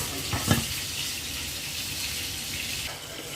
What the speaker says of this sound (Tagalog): Malapit na rin maluto itong aking piritong isda